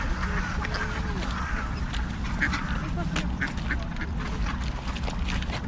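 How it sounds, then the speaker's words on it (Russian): A tame duck quacking outdoors, several short quacks scattered over steady low background noise, moderately near and fairly faint. "Смотри, ручная утка."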